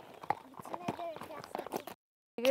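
A ridden horse's hooves clip-clop in a quick, steady rhythm at close range, with a voice speaking over the hoofbeats before a brief pause.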